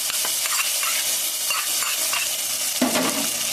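Hot tempering for drumstick-leaf dal is poured into the boiling lentils, setting off a loud, close, continuous sizzle with a few stirring scrapes and a sharper burst toward the end, no talking.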